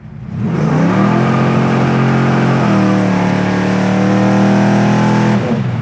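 A powerful 1971 Chevelle SS engine roars close by, revving steadily upward in pitch as it accelerates hard, loud and sustained for several seconds.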